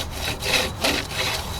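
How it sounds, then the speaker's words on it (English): A long-handled Silky saw cuts through a piece of wood in easy, even strokes, giving about three rasping push-pull passes up close with no talk. "Standing up straight and just real easy sawing this piece of wood."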